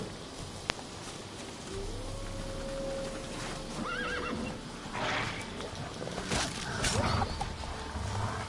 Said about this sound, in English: let me get off this horse